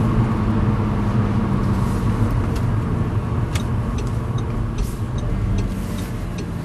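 A SEAT car engine drones loudly inside the moving car, its pitch shifting as the gears change down, with steady road noise and occasional ticks.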